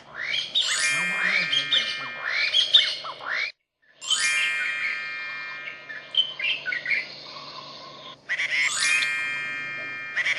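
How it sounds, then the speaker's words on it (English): Recorded wild bird calls, bright chirps and tweets in quick overlapping bursts, with two brief silent gaps between sections, loud and close with no talking. "Helpers use special equipment to collect bird sounds."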